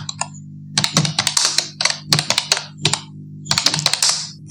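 Keys clatter on a computer keyboard as an address is typed, in quick bursts of close, crisp clicks separated by short pauses, with a faint steady hum underneath.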